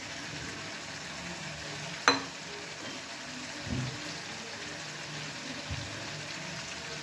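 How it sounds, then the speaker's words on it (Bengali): Fried tengra fish goes into a sizzling spice paste of turmeric and masala, bringing one sharp clatter, then a steady low frying hiss with a few soft stirring bumps. "এবার আমি ভেজে রাখা মাছগুলো দিয়ে দিলাম"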